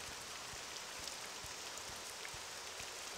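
Rain falls in the video game Morrowind as a faint, steady hiss with soft scattered drops, alone and without talk.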